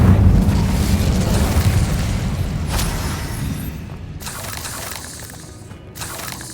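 A sustained, roaring Incendio fire spell blast in Hogwarts Legacy, loud and rumbling at first, then tapering off with a few sharp crackles.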